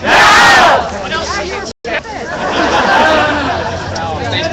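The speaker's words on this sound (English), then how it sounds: "Nice enthusiastic crowd too." A crowd at a Restore the Fourth rally shouts and chants loudly and close by, voices overlapping in a raised, enthusiastic roar with a brief break midway.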